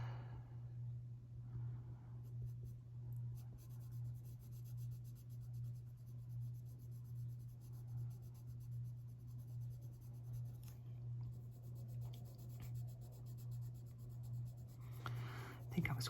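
Polychromos colored pencil strokes scratching steadily across drafting film, a soft continuous close-up rubbing and scribbling texture over a constant low hum, with no talking.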